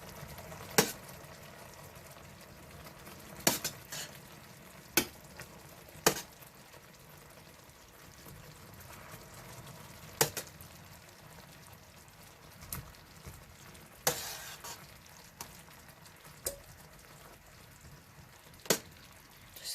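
Soft boiled sweet potatoes sizzle and simmer in a hot pan on the stovetop while a utensil scoots them around, with bubbling underneath and sharp scraping clinks at irregular intervals.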